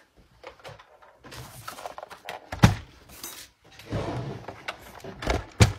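A Big Shot die-cutting machine is handled on a craft table for cutting paper pieces, producing scattered close thunks, clicks and a sliding rumble as it is set down and moved, with sharp knocks among quieter shuffling.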